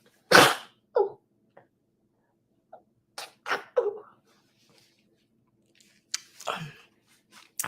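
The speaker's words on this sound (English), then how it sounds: "I'm getting ready to sneeze" A person sneezes loudly and abruptly, followed by a few smaller snorts, sniffs and exhaled breaths spread out over several seconds in a quiet indoor room.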